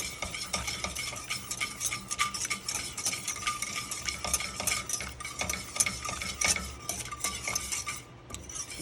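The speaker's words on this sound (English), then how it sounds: "Stirring the entire time." A whisk stirs cold butter into beurre blanc sauce in a pan, producing continuous fast metallic scraping and clinking against the pan, with a faint sizzle underneath and no talking.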